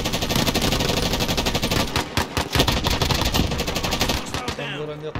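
Gunfire in Call of Duty Warzone: dense, rapid automatic bursts and single shots crackle loudly and almost without pause, ending in a brief tonal game sound.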